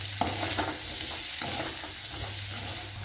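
Potato and peas sabji stirred in a pan as coriander goes in, a steady close sizzle with repeated spoon scrapes and stirring knocks throughout.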